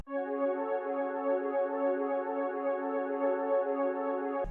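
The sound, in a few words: dark ambient melody in FL Studio at double speed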